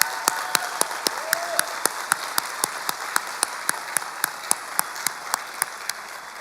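A large graduation crowd applauds the 2023 graduates of La Joya ISD, a steady wash of clapping filling the hall, with a sharp regular click repeating about four times a second over the top.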